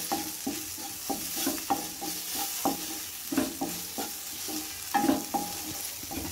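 A spoon stirs masala powder frying in oil in a pan for wheat kolukattai, giving rhythmic scraping strokes about every half second over a constant soft sizzle, close and without speech.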